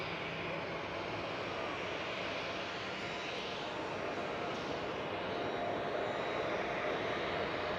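A KLM Boeing 737 taxis at Schiphol Airport, its jet engines a steady, fairly distant broadband roar that holds level throughout.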